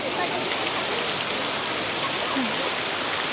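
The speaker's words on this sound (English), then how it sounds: "That splashing though is actually really nice." Fountain water splashing steadily in Rome's Vatican City, a continuous bright rushing wash close by with no breaks, heard on its own.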